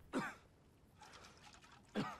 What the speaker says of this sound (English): Can you stop coughing, please?